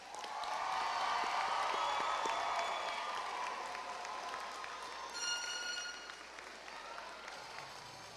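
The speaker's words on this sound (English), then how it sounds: "let's give the class of 2024 another round of applause" A large audience at the East Alton-Wood River Community High School graduation ceremony gives the class of 2024 a full round of applause. The clapping swells loudly at first, then gradually thins and softens toward the end.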